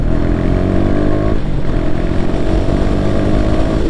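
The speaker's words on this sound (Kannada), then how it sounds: "ಫಿಫ್ತ್ ಗೇರು 132 ತನಕ ರೀಚ್ ಆಗುತ್ತೆ ಗಾಡಿ" MT15 or Duke 250 motorcycle accelerating hard in fifth gear, a loud steady engine drone with a dense harmonic whine, close and continuous, with a brief dip partway through and no talk.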